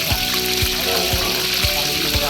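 Ukoy fritters sizzle steadily in boiling oil, a loud, continuous hiss and crackle overlaid with regular low thumps from somewhere nearby.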